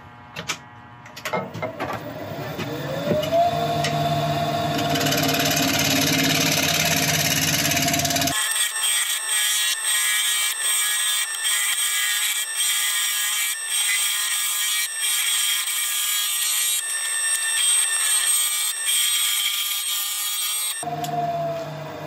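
A woodturning lathe spins a balanced wooden bowl at about 1100 RPM, giving a steady whine with a rasping scrape as the tool cuts. It runs loud and close for the whole stretch, with the motor tone changing near the start and end.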